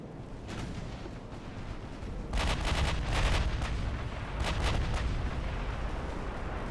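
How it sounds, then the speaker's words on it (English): Torpedo hit on a warship in the naval battle game Ultimate Admiral: Dreadnoughts, heard as deep rumbling booms and several sharp blasts over constant low battle noise. "You took another torpedo hit."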